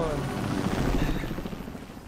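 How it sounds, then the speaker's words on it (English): Helicopter in an online battle-royale shooter game, a steady rotor drone with choppy low thumping throughout, heard under game sounds. "The helicopter?"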